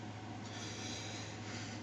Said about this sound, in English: We'll give her another shuffle too.